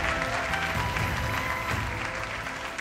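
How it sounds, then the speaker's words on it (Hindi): A studio audience on a televised singing competition stage claps steadily and loudly, a dense continuous round of applause with faint crowd murmur and music underneath. "जोरदार तालियां बजाएं"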